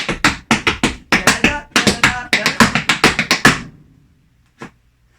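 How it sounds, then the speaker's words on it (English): Tap dance steps: rapid clusters of sharp percussive taps and scuffs on a hard floor in quick rhythmic bursts of step, stomp, brush, followed by a pause and one last tap. "step, stomp, brush, step, stomp, brush"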